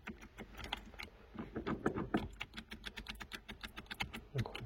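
Clicking and tapping on the LED gear shift lever of a 2018 VW Golf Mk7.5 TSI, a quick, close series of light plastic clicks and knocks in an irregular rhythm.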